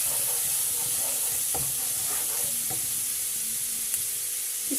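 Ginger garlic paste sizzles and fries steadily in a pan while being stirred, with a few scrapes and clicks of the spoon rising over the continuous close hiss, no voices present.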